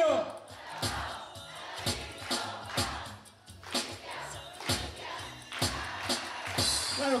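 A party crowd at a quinceañera-style celebration chanting a rhythmic cheer for Cintia, repeated shouted bursts in a regular pulse, loud and close, mixed with voices.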